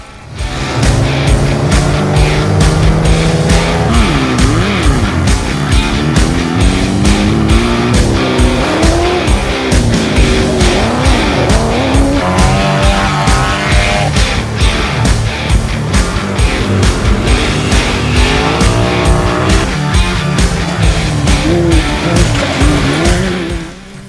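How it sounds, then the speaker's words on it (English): Performance two-wheel-drive rally cars race through a prologue stage, engines revving hard and loud with repeated gear changes, tyre squeal and skidding as the cars pass close by, continuous for the whole stretch. "The performance two-wheel drives were first off the line in the all-important prologue."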